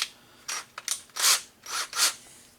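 Screws are driven by hand into a 1982 Atari Millipede arcade cabinet, making a string of short, close scraping, ratcheting twists in quick bursts with brief pauses between them.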